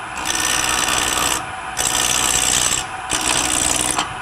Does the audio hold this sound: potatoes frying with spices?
no